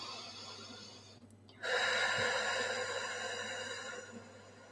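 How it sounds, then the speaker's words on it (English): Person taking deep breaths, a quiet inhale followed by a long, strong, breathy exhale close to the microphone. "just taking some deep breaths"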